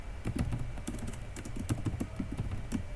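Fast, irregular clatter of keys on a computer keyboard as code is typed, close and fairly quiet, in short bursts with brief pauses.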